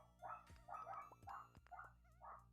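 Dog barking in repeated yelping bursts, about five short calls with a whiny, pitched quality, moderately close but fairly quiet, with no talk over them.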